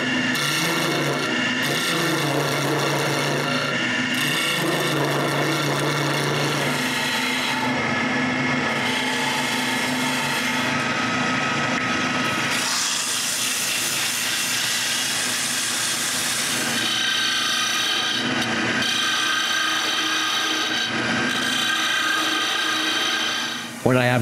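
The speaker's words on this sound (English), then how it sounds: "I start the lathe and retrace my marks so I can see them more clearly" Wood lathe spinning a wooden post for a fishing rod rack, a steady close rasping and rubbing drone with scraping texture that shifts in intensity throughout, no talk over it.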